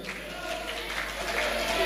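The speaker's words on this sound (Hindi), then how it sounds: "ताली बजा दो दिल्ली खातर" Applause and cheering from a crowd at a women's kabaddi match, a steady broad roar that continues without a break.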